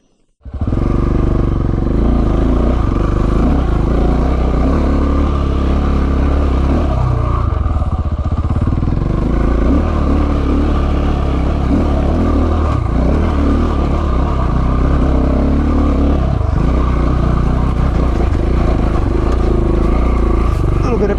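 A KTM 690 motorcycle works its way along an off-road trail in first gear, its engine droning loud and steady throughout with clattering and scraping from the terrain, while the rider talks intermittently.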